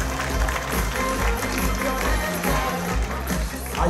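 A crowd at the Incheon United football fans' day claps steadily in a dense, continuous wash of applause, with crowd noise and a little talk underneath.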